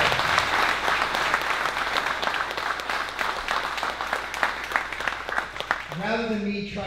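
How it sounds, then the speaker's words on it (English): Crowd applause at a fitness charity event for veterans, dense and sustained, ending as a voice starts speaking. "Let's give a round of applause to all those"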